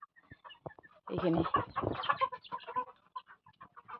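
Poultry in a rural backyard, a rooster and hens clucking in short bursts at close range, with a person speaking briefly over the birds.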